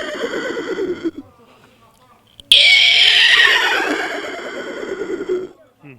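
A man imitates a horse neighing with a loud, shrill whinny that quavers and trails downward for several seconds, preceded by brief voiced sounds and a short quiet gap, close to the listener.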